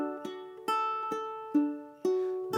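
Ukulele fingerpicked on one chord, thumb on string 3 then strings 2 and 1: six clear plucked notes roughly every half second, each ringing out and decaying, close and alone.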